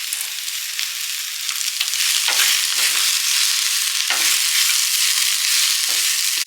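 Grated coconut and roasted gram frying in a pan for mutton gravy, a loud continuous hiss with a few stirring swells, close and steady throughout.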